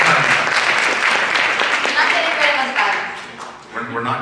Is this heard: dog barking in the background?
no